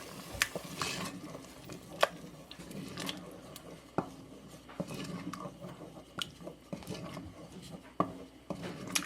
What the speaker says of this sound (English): I am going to add in those chickpeas.